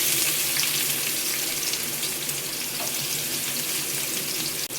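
Steady, loud sizzling of fennel seeds, cumin and chopped garlic tempering in hot oil, a constant crackling hiss with no voices.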